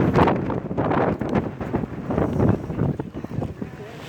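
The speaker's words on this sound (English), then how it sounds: "it's a little windy though." Gusty wind buffets the microphone in low rumbling bursts at an outdoor gathering in Limerick, with people talking underneath.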